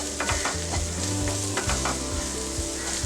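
Vegetables, including the white part of onion, stir-fried on full heat for egg fried rice: a constant close sizzle with a spatula scraping and tossing in the pan.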